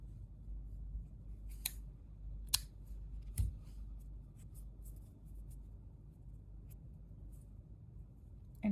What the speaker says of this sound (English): Now I will cut the thread.